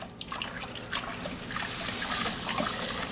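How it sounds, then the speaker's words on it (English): Hot water poured steadily into all-grain brewing mash while it is stirred, a continuous close trickling and splashing with faint liquid clinks throughout. "So you just pour and you stir while you're pouring."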